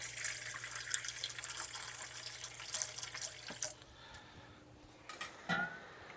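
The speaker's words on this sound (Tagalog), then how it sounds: "lagyan natin ng konting tubig lang para may sabaw" Water poured into a pot of seafood soup, a close splashing trickle that runs for a few seconds and then thins to faint drips and clinks.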